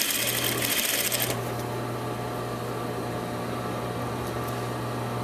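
Sewing machine stitching a patch pocket with a flap, a steady close mechanical hum with a louder burst of rapid stitching at the start, then a quieter continuous whir.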